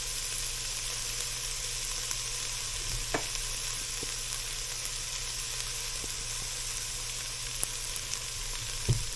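Long grain white rice with paprika, ground thyme and cayenne, stirred and toasted among sautéed vegetables for jambalaya, giving a steady soft sizzle with a few light spoon scrapes and clicks, close and fairly quiet, no voices.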